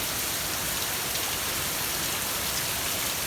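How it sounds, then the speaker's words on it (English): Light rain falling steadily outdoors on a wet day, a continuous soft hiss of drops on surfaces with no voices and an even, unbroken level throughout. "Well, it's raining a bit."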